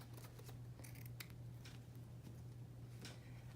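Scissors cut two pieces of material for a flower girl's headpiece, with several crisp snips spread across the stretch over a steady low electrical hum.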